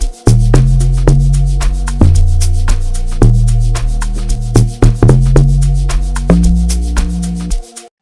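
An amapiano groove made in FL Studio Mobile, with deep booming log drums pulsing under percussive hits in a steady looping pattern, loud and close with no talk.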